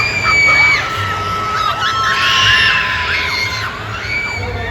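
Riders screaming together on a Carowinds roller coaster, a loud sustained chorus of high-pitched shrieks and yells that swells and stays dense for several seconds.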